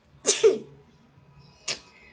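One person sneezes sharply and close, a quick two-part burst, followed by a shorter second sneeze-like burst about a second later in an otherwise quiet room.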